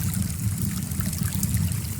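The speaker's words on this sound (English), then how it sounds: "Usually I have a brook and bonfire play together." Brook ambience from a browser focus extension plays as a steady soft trickle of running water with low rushing undertone, continuous and even, without voices.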